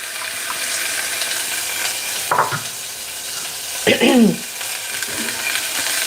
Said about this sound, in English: I'm going to add the onions.